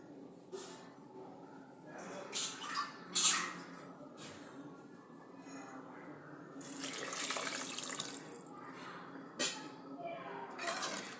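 Water splashes and trickles into a pressure cooker in several short bursts, with a longer steady pour midway, fairly close and moderately quiet.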